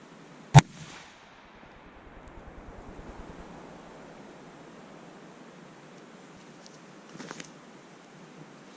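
A 12 gauge shotgun fires a single birdshot load at a duct-taped water bottle outdoors near water: one sharp, loud report at the start, followed by faint splashing and wind noise.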